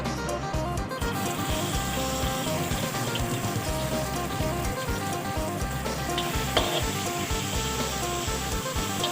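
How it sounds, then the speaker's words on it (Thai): Pounded chili and garlic hit hot oil in a wok while cooking spicy dry-style stir-fried holy basil with minced pork, giving a steady, close crackling sizzle throughout with no voices. "น้ำมันร้อนแล้วนะคะ เราก็ใส่พริกกับกระเทียมที่โขก ใส่ลงไปเลยค่ะ"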